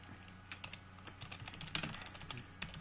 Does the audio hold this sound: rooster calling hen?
no